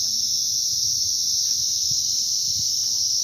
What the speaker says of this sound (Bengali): ঝিঝি পোকার ডাক শোনো